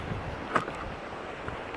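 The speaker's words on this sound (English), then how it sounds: "It's a very windy part of the trail." Wind gusting across an exposed coastal trail on a winter hike, a broad rushing roar buffeting the microphone with a brief louder gust.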